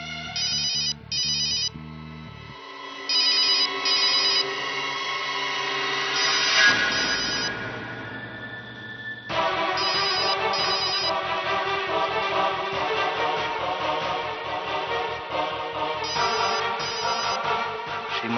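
A phone ringtone plays in a TV drama scene during a frantic house search, a loud electronic melody in repeated bursts that pauses briefly midway and then resumes, continuing without talk.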